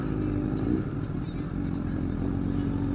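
Motorcycle being ridden, a steady close engine drone with a low rumble and shifting pitch under wind noise, continuous throughout.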